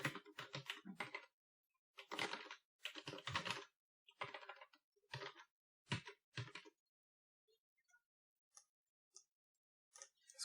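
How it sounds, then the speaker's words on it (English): Typing on a computer keyboard in an office setting comes in quiet bursts of rapid key clicks separated by pauses, ending with a few isolated taps. "we'll just type it over here."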